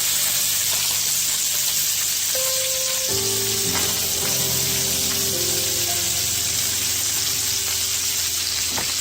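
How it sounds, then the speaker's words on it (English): Mexican oregano chicken thighs searing in sauce in a hot pan, a loud continuous sizzle and hiss up close, with some clattering as the pieces are flipped. "we just want to flip it over to sear in the sauce"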